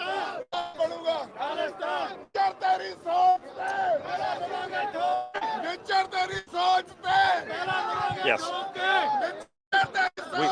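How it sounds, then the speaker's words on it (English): A large crowd gathers at a Khalistan Referendum vote in San Francisco, loud and close with overlapping voices, bursts of shouting and chanting, and chatter throughout. "the crowd that's filling in now are largely men"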